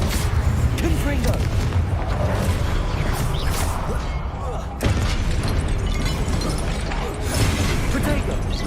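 Confringo fire spell blasts going off during Hogwarts Legacy combat, a dense, continuous roar of booming impacts and crashing debris with a sharp renewed burst midway; a voice speaks over the action.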